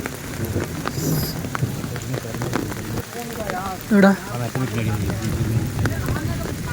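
Steady rain patters on surfaces while people talk nearby, with a brief louder burst of voices midway.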